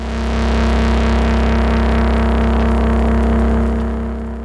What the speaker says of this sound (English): So the sound is filtering down as the envelope is playing back.